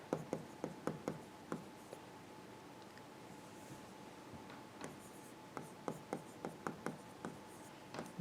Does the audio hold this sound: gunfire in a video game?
no